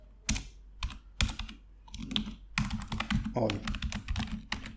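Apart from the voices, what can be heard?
typing code on a computer keyboard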